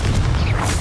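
The Confringo blasting spell in the Hogwarts Legacy video game goes off as a short, heavy, rumbling explosion that fills the moment at close range.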